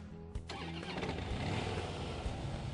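A 2012 Harley-Davidson Softail Deluxe motorcycle engine cranks and catches, then settles into a steady, rumbling idle, faint and continuous.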